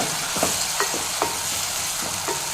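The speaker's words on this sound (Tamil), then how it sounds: "அதையும் சேர்த்து நல்லா ஒன்று சேர வதக்கி விடுங்க." Sliced tomatoes being sautéed in a pan for a potato and peas gravy, a steady sizzle with a few soft scrapes of stirring at intervals, close and alone.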